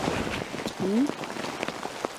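Rain falls steadily on a rainy campsite at Capertree, a close, continuous patter broken by brief knocks and scattered speech-like sounds.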